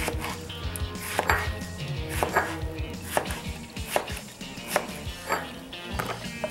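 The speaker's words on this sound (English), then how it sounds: "Turn it back on the flat side, cut on a bias." A knife chops vegetables on a board in quick, regular strokes, cutting them on a bias for Mexican meatball soup, with each crisp, close tap clear and no talking.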